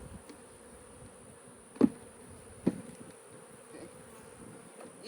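Honeybees hum around an open hive with frames lifted in a beeyard, a soft steady drone with a constant high whine, broken by two sharp knocks; a voice speaks briefly.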